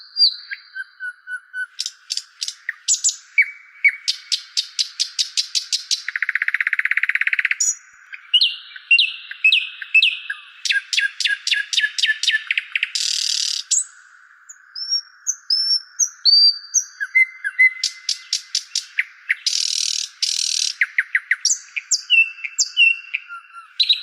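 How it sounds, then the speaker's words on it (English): Playback of birds chirping and singing, dense, bright, rapid trills and repeated whistled notes in fast bursts, loud and continuous with brief pauses, heard alone. "so it was a sound of birds"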